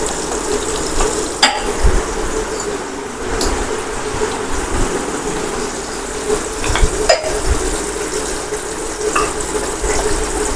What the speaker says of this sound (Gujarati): ધાણા પાવડર, અને આપણે સારી રીતે તેને મિક્સ કરી દઈશું